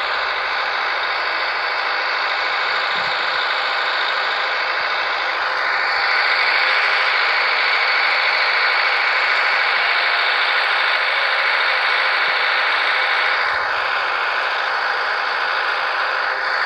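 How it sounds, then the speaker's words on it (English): Tractor engine in Farming Simulator 14 grumbling steadily while driving, a loud, continuous mid-pitched drone with a constant rumble and no talking over it. "just relax into the grumbling noises of the tractor"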